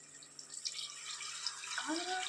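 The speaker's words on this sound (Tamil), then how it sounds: "இப்போ தண்ணி சேர்த்துக்கலாம் ஃப்ரெண்ட்ஸ்." Water pours and splashes into a cooking pot, the stream rising in pitch as it fills, with a low steady hum behind it.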